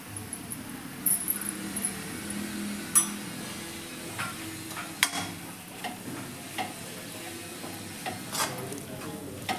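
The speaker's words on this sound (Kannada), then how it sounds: "ಇದನ್ನು ಕೂಡ ಚೆನ್ನಾಗಿ ಮಿಕ್ಸ್ ಮಾಡ್ಕೊತಾ ಇದ್ದೀನಿ" Peanut powder and gram flour are stirred into a fenugreek leaf gravy in a pan, with a steady soft sizzle under repeated scraping strokes and light ticking taps of the spoon against the pan.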